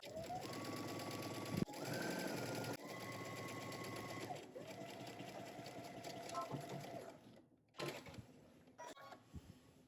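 A sewing machine runs in long steady bursts, its needle whirring in a fast rhythmic stitch along a jumpsuit crotch seam with 5/8 inch allowance, pausing briefly between runs, with faint talk underneath.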